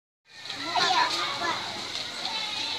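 A child splashing and paddling in a swimming pool while learning to swim, a close, continuous wash of water that begins abruptly and carries on steadily, with children's voices faintly mixed in.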